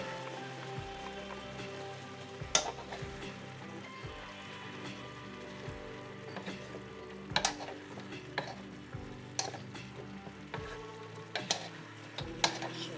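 Vegetables for pinakbet with shrimp paste stirred in a frying pan, a steady close sizzle with a rhythmic series of spoon scrapes and clinks against the pan, no talking.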